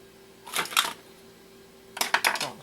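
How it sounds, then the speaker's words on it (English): Screws being removed from a Nintendo GameCube with a screwdriver during teardown, two short bursts of clicking and scraping against a low steady hum. "Screwdriver."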